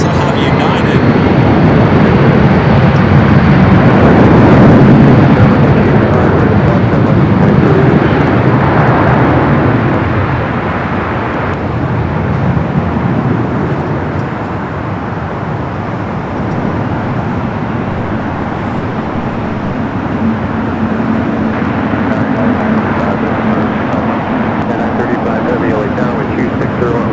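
An Air France airliner taxiing at LAX toward runway 24 left, a loud, broad jet roar that swells early and then eases to a steady rumble, with other airport and road noise around it.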